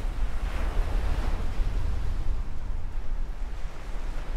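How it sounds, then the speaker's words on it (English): Ocean surf rolls onto a beach in a continuous low roar, loud and close, with wind buffeting the microphone throughout and no voices. "That's a beautiful beach,"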